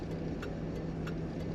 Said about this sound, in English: Behind me, quietly humming, propelling this car